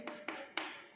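Chalk or marker strokes on a teaching board: four short, crisp scratches spaced unevenly across about a second, close and fairly faint.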